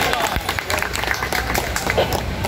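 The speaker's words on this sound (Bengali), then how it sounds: "আমরা আসলে জোরে একটা করতালি দিই তার জন্য সবাই।" An audience at a fire service demonstration in Bangladesh claps, a dense steady patter of hands at moderate distance that carries on through the whole stretch under a murmuring crowd.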